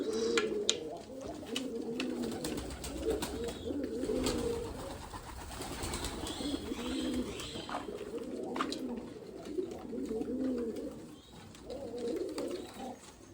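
Pigeons coo steadily in a loft, a dense overlapping chorus of low throaty coos repeating through the whole stretch, close and moderately loud, with occasional wing flutters and chirps.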